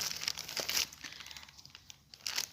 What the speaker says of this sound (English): I put all the things in this plastic bag